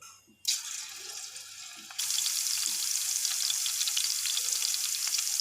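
Oil hisses and sizzles steadily in a hot frying pan, a sudden louder burst of frying kicking in partway through as garlic and ginger go in, continuing without talk.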